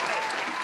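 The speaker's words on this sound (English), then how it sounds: "Round of applause." A brief, steady wash of studio audience applause greets guest Lil Zane on a talk show, dense and even with no gaps, heard on its own without speech.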